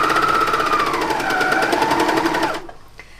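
A machine stitches a shirt in a fast, even run of rapid needle strokes up close, then stops abruptly, leaving a quiet room.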